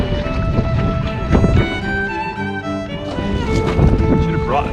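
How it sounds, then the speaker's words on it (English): Strong wind buffets a canoe being paddled out on open water, a loud, constant rushing roar with scattered splashes and knocks, while someone talks over it. "I try to rudder this over, but the wind will blow me backwards if I stop paddling."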